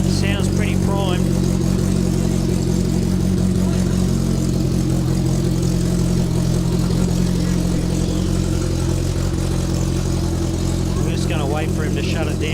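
An enduro race car idles roughly at pre-race scrutineering, a deep, thumpy, lumpy engine note running loud and close throughout, with faint voices and other engine sounds in the background.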